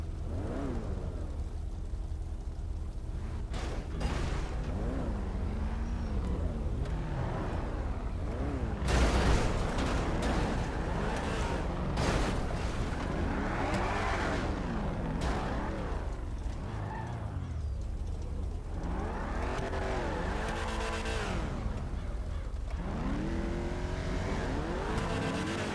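Race cars in a video game race, including a Sports Classics field: steady engine drone with repeated revving rises and falls as cars accelerate and pass, continuous and moderately loud, with no talking.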